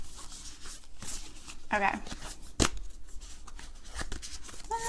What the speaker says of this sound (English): I'm shuffling it on my mic, but these cards are like super rough